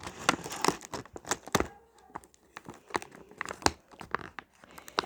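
Powerpuff Girls blind box packaging torn open by hand, with close, loud bursts of ripping and crinkling that come in clusters and pause briefly in the middle, and no voices.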